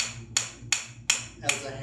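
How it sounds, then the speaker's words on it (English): A wooden Tok Sen massage hammer taps rhythmically during Thai yoga massage, four crisp evenly spaced knocks about every third of a second, close and moderately loud over a low background hum. "For tapping, for what we call Tok Sen."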